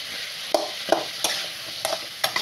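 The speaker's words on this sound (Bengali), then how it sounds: "দেখুন ভালোভাবে সুন্দর করে আমি কষিয়ে নিচ্ছি।" Ground spice paste sizzles with a little water in a pan while a spoon scrapes through it in about five distinct, evenly spaced strokes, close up and with no talking.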